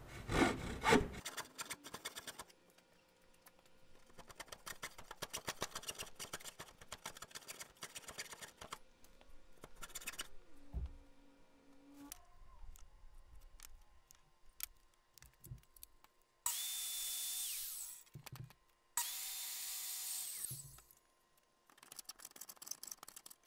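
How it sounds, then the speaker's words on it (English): A flap disc on an angle grinder with its guard removed sands scrap steel for a homemade table. It comes in loud bursts of grinding and rasping separated by quieter gaps of handling and clatter, with one long, harsh pass and a shorter one near the end. "I'm using new flapper disc. I removed the guard so I could have the freedom of sanding this"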